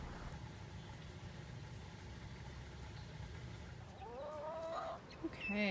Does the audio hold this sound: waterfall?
no